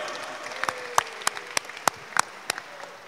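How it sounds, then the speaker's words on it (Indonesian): Sparse, scattered applause from a small audience at a Muay Thai press conference in Bali: a handful of sharp individual claps at irregular intervals over a quiet room. "Tepuk tangan."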